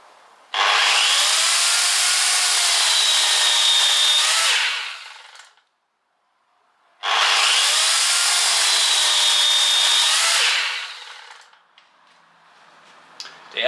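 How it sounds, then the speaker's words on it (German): An electric chainsaw cuts through a piece of wood in two loud, sustained bursts of about four seconds each, separated by a short pause, with faint tool noise trailing at the end. "Nächster Test, Stromsäge, gleiches Stück Holz."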